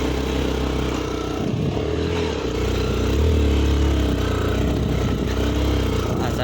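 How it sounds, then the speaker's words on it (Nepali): Motorcycle engine droning steadily and close as the bike rides a rough mountain mule track through forest, with clattering from the uneven ground. "खच्चड हिँड्ने ठाउँमा बाइक हिँडिरहनु भएको छ अहिले।"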